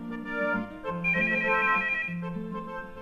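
A telephone rings with a melodic electronic tone, a steady repeating phrase heard alone and at moderate loudness.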